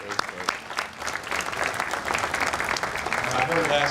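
Graduating class applauding faculty and program staff at a college graduation ceremony, a brief, moderately loud round of clapping from a crowd, steady throughout.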